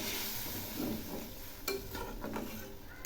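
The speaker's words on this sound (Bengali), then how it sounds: "একটু নেড়ে দিচ্ছি।" Spice masala with a splash of water sizzles in a pan while being stirred for a singi fish curry, a close, continuous hiss broken by soft scraping and a few metallic taps.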